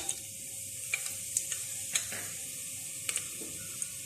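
Garam masala frying in hot ghee inside a pressure cooker, a bright continuous sizzle broken by several quick spoon clinks and stirring scrapes, close and alone.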